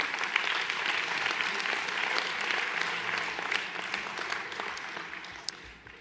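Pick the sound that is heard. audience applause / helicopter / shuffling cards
audience applause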